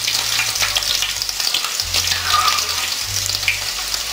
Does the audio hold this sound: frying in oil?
yes